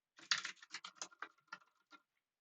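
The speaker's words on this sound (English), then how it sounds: "Keyboard," Keys tapped on a computer keyboard, picked up close by a Blue Yeti microphone: about a dozen quick, uneven clicks over two seconds, fairly quiet and heard alone.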